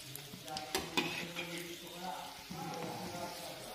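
Veg chowmein rolls fry in hot oil over a medium flame, giving a steady close sizzle with occasional stirring clinks and brief louder pops.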